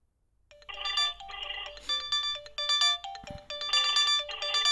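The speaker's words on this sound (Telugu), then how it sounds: "నా కాల్ ఏంటి ఈ మొబైల్ రింగ్ అవుతుంది?" A mobile phone ringtone plays loud and close, a repeating bright melodic jingle in short bursts that starts after a brief quiet moment and continues without any talk.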